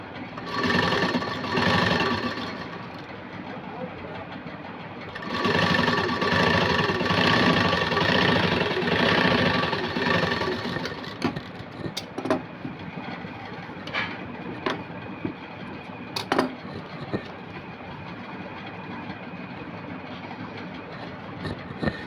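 Sewing machine stitching two pieces of cloth for Aari work princess-cut tailoring, a close, loud, rapid mechanical whir in two long bursts, then quieter with scattered clicks and knocks.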